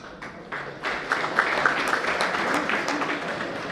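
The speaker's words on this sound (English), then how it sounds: "give a huge round of applause for this awesome act" An audience at a student tech-fest performance applauds, a sustained wash of many hands clapping that builds after a moment and holds steady at moderate loudness.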